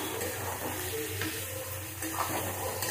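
Spice paste being fried and stirred in a pan for a Bengali-style taro and hilsa fish dish, a steady close sizzle with scraping stirring strokes throughout, no talk.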